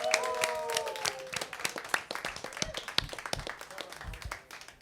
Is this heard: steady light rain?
no